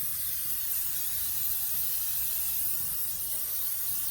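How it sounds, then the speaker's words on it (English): A spray nozzle hisses continuously for a few seconds, a steady, close, airy spritz over barbecue ribs with no talking. "So, like I said, I'm gonna spray these once."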